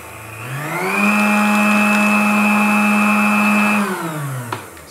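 Electric hand mixer beating whipping cream with icing sugar in a bowl, a steady loud motor whine that ramps up, holds for several seconds, then winds down, with no talk.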